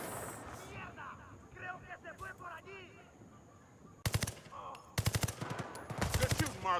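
Rapid automatic gunfire in Battlefield 6 multiplayer comes in loud, sharp bursts after a stretch of quieter game sound and voices, with the shots clustering into several dense volleys.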